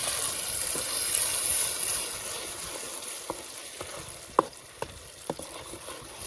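Onion and tomato gravy is stirred in a frying pan for village-style pav bhaji, with a steady close sizzle and a few sharp spoon clicks against the pan near the end. No one talks.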